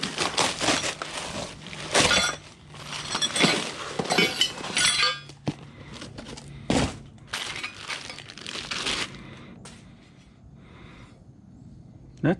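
Heavy metal chains from a Vulcan welding cart clink and rattle close by in a burst of jangling impacts, then fall to a few sparse, quieter clanks.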